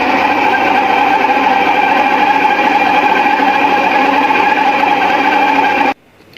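An electric mixer whirs steadily and loudly close by, beating eggs with vanilla into cream for Eid biscuits, then cuts off abruptly near the end.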